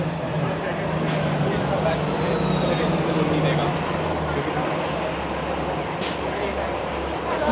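Steady city traffic on Spadina Avenue in Toronto, with buses and trucks rumbling and a couple of sharp air-brake hisses around one and six seconds, heard from the sidewalk over a constant roadway wash.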